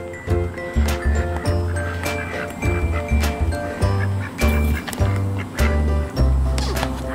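Ducks at a pet store or zoo quack repeatedly in loud, close bursts that overlap with background chatter and a bright, ringing noisy space.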